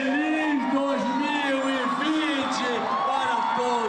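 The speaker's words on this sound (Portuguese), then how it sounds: "Público ansioso pela contagem regressiva para dar adeus a 2019 e, enfim, poder gritar." A beach crowd awaiting the New Year's countdown to 2020 shouts, whoops and cheers in sustained overlapping voices, loud and dense across the whole stretch.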